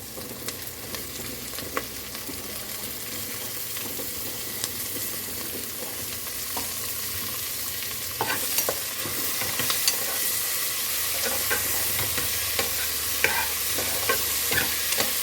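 Chicken curry with tomato and green chillies fries over a high flame, a steady loud sizzle running throughout with scattered sharp crackles and spatters, growing slightly denser toward the end.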